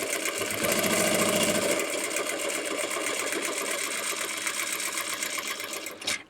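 A regular domestic sewing machine with no stitch regulator stitches rapidly during free motion quilting, a fast, steady mechanical whir that runs continuously before stopping at the end.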